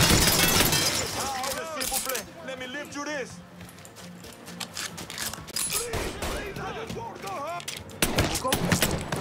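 Gunfire in the Mafia 3 video game comes in bursts and volleys with sharp impacts, mixed with game sound effects and heard over ongoing talk from a voice.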